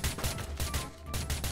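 Rapid gunfire in the Minecraft video game, a quiet rattling burst of repeated shots with a low thumping rhythm, fairly distant and without talk.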